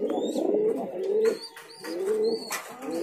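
Fancy pigeons coo close by in low, throaty, repeated rolling calls, with a few higher chirps mixed in and no talking.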